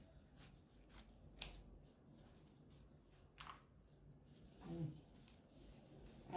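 Scissors cutting leftover denim jeans fabric for a rug, several crisp close snips at irregular intervals over a quiet background, with soft talking in between.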